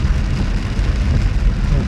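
Rain falls steadily in a village, a dense continuous wash of noise close to the microphone, with no voices.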